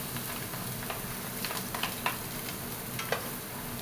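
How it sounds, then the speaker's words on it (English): Chopped onions and garlic fry in cooking oil in a pan for Filipino adobo, a steady close sizzle broken by a few sharp pops and stirring scrapes, with no talk. "We're gonna put some cooking oil in it. We're gonna put our chopped onions and garlic."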